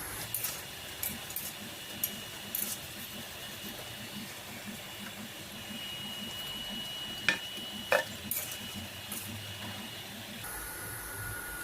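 Masala vada made with drumstick leaves frying in hot oil over a high flame, a steady continuous sizzle and bubbling hiss throughout with a few faint clinks, no talking.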